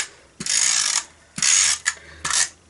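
A Stampin' Up! Snail adhesive tape runner rolls glue onto card stock in three short bursts, each a close, buzzy ratcheting zip separated by brief pauses.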